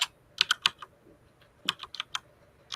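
Quick bursts of typing on a computer keyboard, two short clusters of crisp, close key clicks separated by a pause, with no voices.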